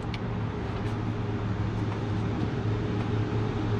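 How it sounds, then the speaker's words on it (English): A bucket truck approaching a driveway where a carburetor is being swapped, heard as a steady low engine rumble with broadband road noise, continuous and moderately loud throughout. "I think I hear my bucket truck coming."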